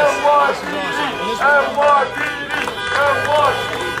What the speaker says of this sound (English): you heard the crowd getting crazy there